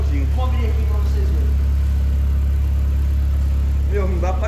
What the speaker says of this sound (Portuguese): Olha, olha, olha o barulho desse motor, galera.